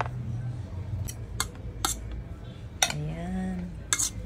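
Chopped onion, tomato and ginger get tossed with mayonnaise in a bowl, a handful of sharp utensil clinks and scrapes spaced a second or so apart over a low background hum.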